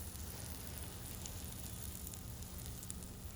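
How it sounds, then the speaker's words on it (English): Steady, close sizzling of a beef patty frying on a hot griddle, a constant crackling hiss with faint pops and no talking. "look at that sizzle right there"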